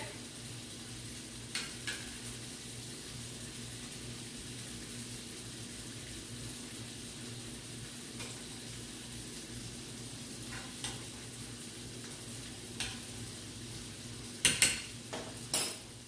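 Curry vegetables cook in a pan with a soft, steady sizzle, broken by occasional clinks of a utensil against the pan and a few louder knocks near the end.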